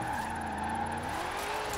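A Dodge Charger in Forza Horizon 4 slides sideways downhill, its engine droning steadily under a continuous tire squeal that holds for the whole stretch without a break.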